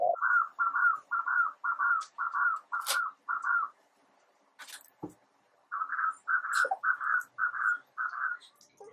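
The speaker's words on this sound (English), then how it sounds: "Can you hear that pigeon in the background?" Pigeon cooing in a steady series of soft, low, rounded calls, pausing briefly before another run, with faint chirps from other birds in the background.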